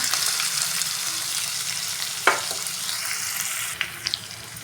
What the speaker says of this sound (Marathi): कांदा बारीक चिरल्यामुळं म्हणजे भाजायला किती सोपं जातं आहे